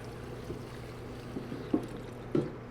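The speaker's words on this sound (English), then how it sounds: "fill this up with cold water just to the top of the vegetables and the bones" Cold water poured into a stock pot over vegetables and bones, a soft continuous trickling pour with a couple of brief louder splashes near the end.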